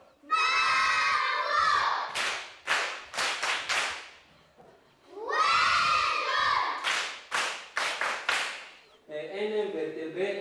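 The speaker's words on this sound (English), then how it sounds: "On applaudit fort." Schoolchildren in a classroom lesson cheer and shout loudly in two long bursts, each followed by sharp clapping, with lighter voices chattering at the end.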